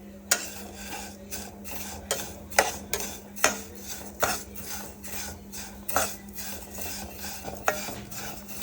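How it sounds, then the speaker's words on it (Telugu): Vermicelli dry-roasting over a low flame in a pan, a faint background sizzle under a rhythmic series of distinct scrapes and clinks from a spoon stirring, about one every half second, with no voices. "సో ఈ విధంగా మనం సేమియాని ఈవెన్గా రోస్ట్ చేసుకోవాలి."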